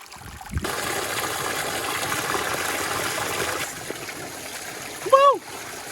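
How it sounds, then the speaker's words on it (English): Cool stream water pours and splashes steadily on a hot Nicaraguan farm, a close and continuous rush that fades near the end. A brief voice-like call follows. "this water just feels amazing. It's coming straight from the stream up there"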